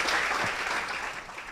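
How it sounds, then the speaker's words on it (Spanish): A congregation at a special Holy Week evening church service applauds in a brief, dense burst of clapping that stays steady and then tapers slightly. "De una aplauso en esta noche."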